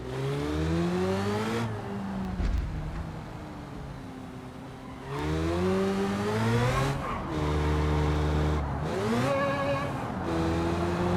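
Supercharged car engine in BeamNG revving loud and close, its harmonic whine rising and falling through repeated gear shifts, with brief lifts between pulls and tire noise underneath.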